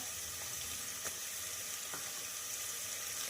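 Peanuts and curry leaves added to hot oil with ginger-garlic paste, giving a dense, continuous frying sizzle with a couple of faint clicks, close and steady, no voices.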